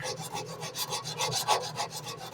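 Sandpaper is rubbed by hand across a ground metal surface to remove deep grinding scratches, making a rhythmic close scratching of back-and-forth strokes, about four per second, with no voices.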